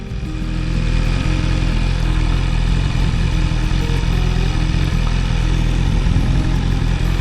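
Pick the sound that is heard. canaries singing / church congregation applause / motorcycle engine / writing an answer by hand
motorcycle engine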